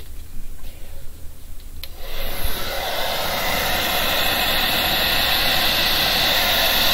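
After a quiet start with small handling noises, a hair dryer's steady airy blowing hiss switches on and continues evenly, loud and close.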